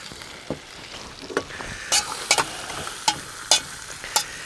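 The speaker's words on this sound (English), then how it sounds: "what we need to do is add the onion" Onion frying in olive oil with browned lamb shanks over a campfire, a quiet steady sizzle under a string of sharp scraping and clattering strokes, several of them loud and close.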